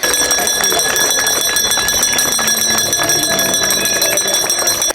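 An electric school bell rings loudly and continuously at a last-bell ceremony at a lyceum in Mukachevo, a harsh rapid metallic clatter with a steady tone, close by.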